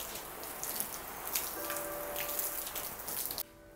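Water sloshed over a tent fly to mimic heavy rain makes a steady, dense spatter and rush of runoff that stops abruptly near the end, with no voices.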